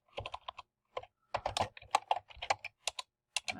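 Typing on a computer keyboard during a word-processing exercise, quick irregular bursts of close, clear key clicks with short pauses, no talking.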